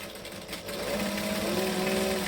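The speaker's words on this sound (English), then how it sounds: "So I'm just basting it very, very close to the edge." A sewing machine basting a foam piece to the side panel of a camera bag close to the edge, running steadily and loudly with a constant whirring hum.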